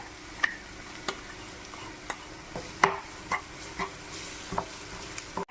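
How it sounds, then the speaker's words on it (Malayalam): A quiet, constant sizzle of ground spices frying in oil, with light spoon taps and stirring clicks recurring roughly every half second to a second. "പൊടിച്ചുകൊണ്ട് വന്ന ഇതിട്ട് എണ്ണയ്ക്കകത്ത് നല്ലോണം മൂത്ത് കഴിയുമ്പോൾ"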